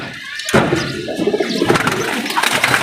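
A male pigeon cooing close by, several soft throaty coos repeating in quick succession with faint fluttering and movement around it, no talking.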